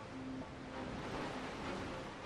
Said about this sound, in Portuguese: a onda-maré do rio Qiantan, uma parede gigantesca de água